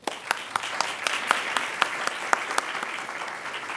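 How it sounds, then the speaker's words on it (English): Audience at a signer briefing applauding an award winner, sustained clapping with sharp individual claps standing out in an irregular rhythm, at moderate level. "So a huge round of applause."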